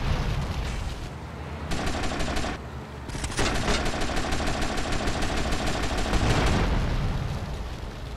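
Gunfire from the video game GTA Vice City crackles in dense, rapid bursts, with sustained automatic fire broken by a few short pauses and loud throughout.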